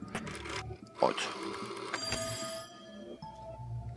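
A telephone rings in the video game There Is No Game, a short electronic bell trill over layered game sound effects and music.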